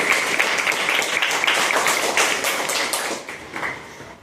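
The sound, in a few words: applause for Olympic bronze medalist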